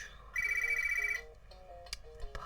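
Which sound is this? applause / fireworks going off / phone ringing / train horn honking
phone ringing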